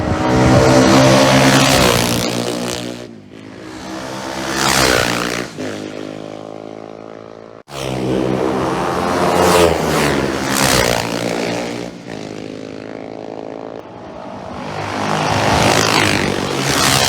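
A Norton 350 Manx racing motorcycle at the Isle of Man TT, its engine note swelling loud and close, cutting off abruptly, then returning with another strong, sustained howl as bikes race past.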